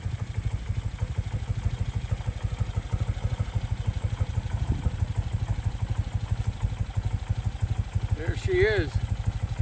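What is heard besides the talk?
1975 BMW R75/6 motorcycle engine idling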